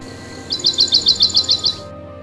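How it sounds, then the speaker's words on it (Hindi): A small bird chirps about nine times in a quick, even rhythm, high and clear, then falls silent. "पेड़ पर बैठी एक चिड़िया कुछ बोलती है।"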